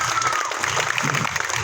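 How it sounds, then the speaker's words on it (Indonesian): A crowd at a Tapak Suci martial arts inauguration at a junior high school claps in a brief, lively burst with a hint of cheering, close and energetic for under two seconds. "Kita beri tepuk tangan yang paling meriah untuk kita semuanya."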